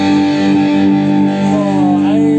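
Strat electric guitar played through heavy distortion on a Line 6 M5 without a noise gate, giving a loud, sustained, buzzing chord tone that holds for a couple of seconds.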